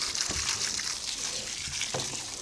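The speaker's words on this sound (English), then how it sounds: "Put down the water first," Water poured onto a dry garden bed before compost goes down, a steady close splashing and trickling wash soaking into the soil without pause.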